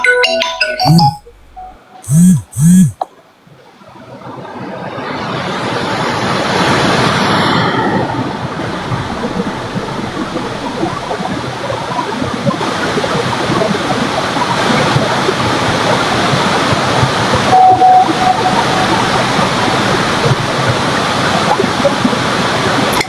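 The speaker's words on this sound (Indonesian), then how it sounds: "Iya, di sini hujan." Heavy rain pours in a steady, dense hiss that fills the background after a brief stretch of voices at the start and holds loud and unbroken to the end.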